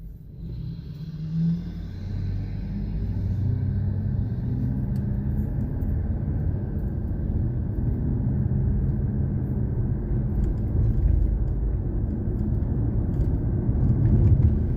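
A car drives along with a steady low road rumble and engine drone that holds close and fairly loud for the whole stretch, with no voices over it.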